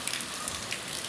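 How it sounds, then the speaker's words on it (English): Heavy rain falls fast at night in Chattanooga, producing a dense, steady hiss of drops with scattered louder patters close by. "It's raining so fast right now."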